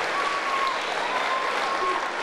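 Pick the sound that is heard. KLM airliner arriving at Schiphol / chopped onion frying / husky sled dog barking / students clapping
students clapping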